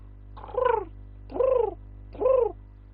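A person imitates bird calls with the voice, three separate cooing, warbling whistles evenly spaced, close and clear over a low steady hum.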